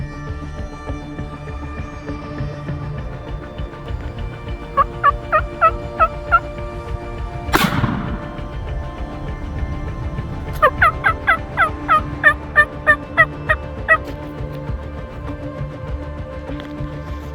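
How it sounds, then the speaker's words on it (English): Wild turkeys in Iowa hunting country gobble loudly nearby in two rapid rattling bursts, a short run followed by a longer, stronger series, with a brief rustling thump in between and no talk. "Somehow these turkeys are still here."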